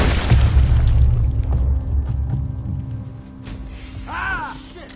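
A Red Dead Redemption 2 gunshot lands as a loud, deep boom at the start and then rumbles and fades away, with faint game sounds trailing after it.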